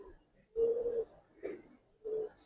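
An old-blood black Bagha pigeon coos close by in three short, throaty phrases separated by brief pauses, with the first the longest, alone and with no talk.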